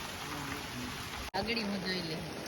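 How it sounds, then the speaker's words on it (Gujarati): Steady heavy rain hisses evenly throughout, with a brief sharp drop-out midway; a faint voice murmurs low beneath the downpour. "વરસાદ ફૂલ ચાલુ થઈ ગયો છે"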